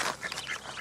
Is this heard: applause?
no